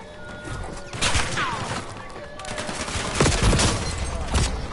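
Rapid bursts of gunfire and crashing impacts from the video game Warzone, in a Resurgence match on a Black Ops 6 map, sound dense and loud throughout.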